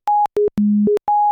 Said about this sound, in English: Nothing too special, a sine wave.